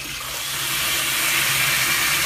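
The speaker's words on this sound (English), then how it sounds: "the water is spraying up and going between the two sections of the tank" Water sprays up from a failed ballcock valve between two sections of a tank in a steady, close hiss that builds slightly in the first moments and then holds even.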